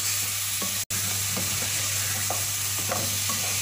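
Half a kilo of mixed-cut goat mutton sizzles steadily in a hot pan, with a loud, continuous frying hiss and a few soft scrapes as the meat is stirred.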